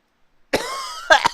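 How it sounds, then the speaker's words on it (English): A single harsh cough, then a quick pair of forceful coughs close to the mic, with rough breathy texture in between. "I'm coughing with extreme force"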